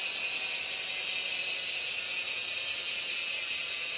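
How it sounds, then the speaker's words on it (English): The rear Shimano 510 freewheel hub on a carbon Polygon cross-country race bike spins and clicks as a fast, continuous ratcheting buzz, steady and close for the whole stretch, with no voices. "take a listen to that hub engagement"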